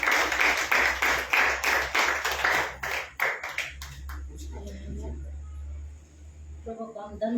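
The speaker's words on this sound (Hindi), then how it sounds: "बड़े तालियों से सबका स्वागत करें।" A congregation at a Good Friday church service applauds to welcome a speaker, with quick, rhythmic claps for about three seconds that then thin out and fade into quieter room sounds and a faint voice.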